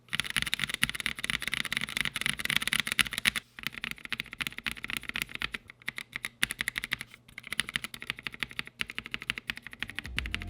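Typing on a mechanical keyboard with unlubed NovelKey Cream switches, scratchy and clacky keystrokes in a dense, continuous flurry, close-up with brief pauses.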